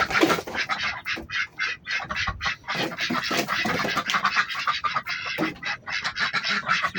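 A flock of ducks quacking continuously and loudly close by, many overlapping calls in a busy, rapid chorus with no talking.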